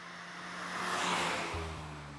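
A 2022 VW Golf R driving, its engine and road noise forming a steady broadband rush that swells in the middle and eases off, with a low drone shifting pitch partway through; no talking.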